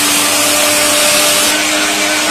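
An Orpat 1200 watt mixer grinder grinding rice into flour, a loud, steady, close whirring roar holding constant without pause.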